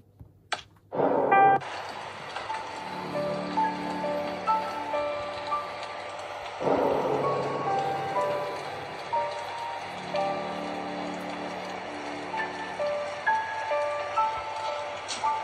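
Rain falls steadily in the Slendrina horror video game, a constant soft patter over a low droning game soundscape, with faint tonal chimes and a sharper burst near the start.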